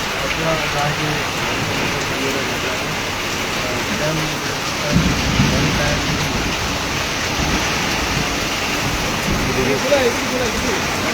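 Heavy rain pours down steadily in Rupnarayanpur, a dense, continuous hiss filling the space close by, with a slightly louder surge partway through and faint voices underneath.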